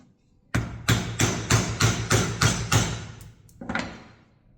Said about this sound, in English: Couple of nice sharp hits. We come back, and then all we're doing is chipping that section out.